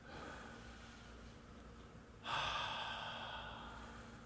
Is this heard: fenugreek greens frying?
no